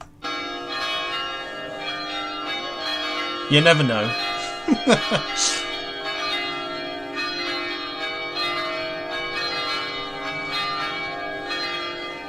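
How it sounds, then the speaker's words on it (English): A wedding bells sound effect rings out during a flight-simulator livestream, a sustained, layered peal of church-style bells with a brief spoken remark over it partway through. "Press the wedding bells."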